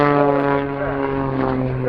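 An aerobatic propeller airplane at an airshow drones with a steady engine hum that shifts pitch as it flips and maneuvers, heard under an announcer's commentary.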